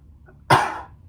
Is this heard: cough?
yes